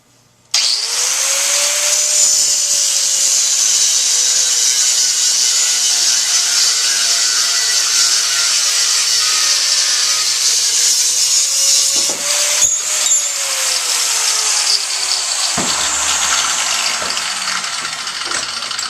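A 4.5-inch angle grinder with a cutoff wheel cuts 1/2-inch rebar stock to a 16-inch length, giving a loud, steady, high-pitched whine over a sustained hum for nearly twenty seconds, with no talking.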